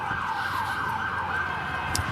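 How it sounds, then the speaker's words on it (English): An emergency vehicle siren wails past on a New York City street, its loud, rising and falling tone sweeping steadily over a hum of outdoor crowd and traffic, with no one speaking. "Let's let the siren go by."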